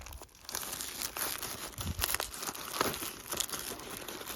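A plastic document file sleeve crinkles and rustles continuously as it is handled and slid into a messenger bag, close and moderately loud throughout.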